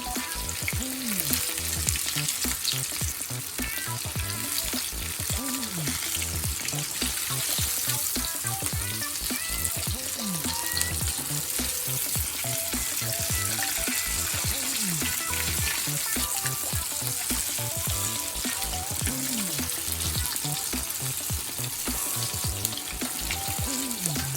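Chicken pieces fry in hot oil with a dense, steady sizzle that crackles continuously at an even loudness throughout, with no voices.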